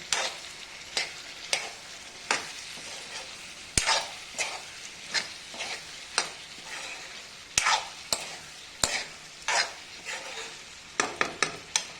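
Kachri vegetables with crushed garlic sizzle steadily in a pan while a utensil stirs them, with repeated scraping strokes against the metal.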